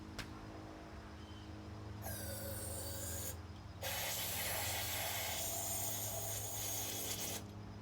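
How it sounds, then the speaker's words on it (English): Two bursts of carburetor cleaner spray hiss close by into the spark plug hole of a Craftsman 5.5 Tecumseh push lawn mower engine, a short blast followed by a longer continuous spray, over a faint low hum. "I'm also going to spray some into the spark plug hole."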